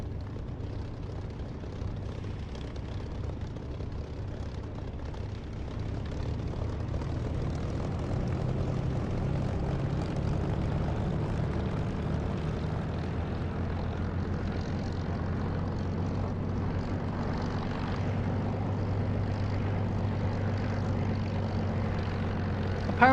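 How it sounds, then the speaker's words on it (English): A steady propeller aircraft engine drone from the DCS flight simulator, modeled on Spitfire engine sound, holds a low, even hum that swells slightly and continues unbroken throughout. "Apparently the sounds for this engine were taken from Spitfires"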